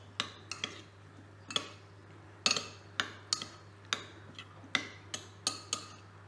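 A spoon clinks and taps against a bowl while pico de gallo with salt and extra virgin olive oil is mixed, a dozen or so sharp, uneven knocks over a steady low hum.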